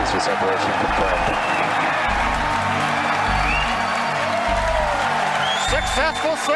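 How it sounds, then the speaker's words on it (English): A large crowd at a SpaceX Falcon Heavy launch cheers, claps and whoops loudly and continuously as the side boosters separate, with a commentator's voice running through the noise. "if you can hear me over the cheering"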